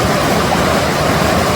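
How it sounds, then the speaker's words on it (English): A loud waterfall roars as a steady, dense rush of water close to the listener, filling the short stretch without a break and with no voices over it. "waterfall so loud, like you gotta talk up over it."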